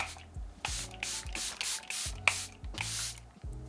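Short bursts of Charlotte Tilbury Airbrush makeup setting spray misting, several quick pumps in an irregular rhythm, close and fairly quiet.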